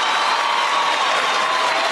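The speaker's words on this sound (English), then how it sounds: "Thank you for the applause." A crowd gives loud, dense, continuous applause with a cheering wash for about two seconds, steady and close throughout.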